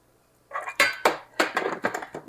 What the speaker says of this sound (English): I'm going to come over here and put 3/4 of a cup of sugar, granulated sugar,